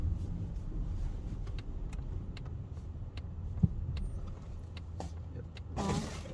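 Polestar 2 rolling over bumpy, snow-covered roads, a steady low cabin rumble with scattered knocks and clicks from the uneven surface, then a louder burst of noise near the end.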